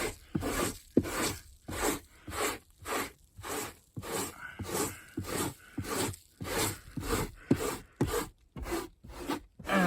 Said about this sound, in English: today we have the Chemical Guys pet hair brush removal tool. So we're going to try it out on my Jeep